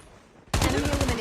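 AK rifle fire in the mobile shooter Call of Duty: Mobile: a sudden loud, rapid burst of automatic shots starting after a quiet moment and continuing steadily to the end.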